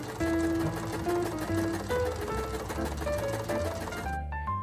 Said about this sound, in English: I sewed the hem of the skirt